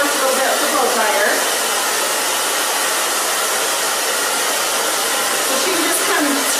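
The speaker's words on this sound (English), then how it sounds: "So you're going to come back and forth with your fingers a little bit with the blow dryer" Blow dryer drying short hair during a styling session, a steady loud whooshing roar running throughout with slight shifts as it moves back and forth.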